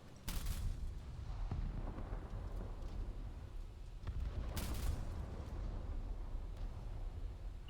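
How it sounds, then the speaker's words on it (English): A manually fired vehicle cannon booms twice in a video game, about four seconds apart, each shot a heavy blast trailing into a long low rumble. "going back to manually firing"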